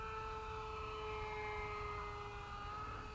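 A small radio-controlled F-15 Eagle model jet with a 64 mm ducted fan flies overhead, giving a steady high-pitched whine with a low rumble, faint and unchanging.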